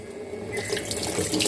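Water runs steadily from a tap into a vessel at close range, a continuous splashing rush with no voices.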